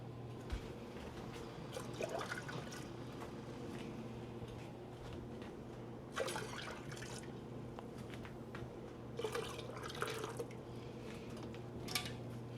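Water is poured and dripped into a pot of peach jelly, with soft liquid trickles and a few louder splashy bursts over a steady low hum, no talking.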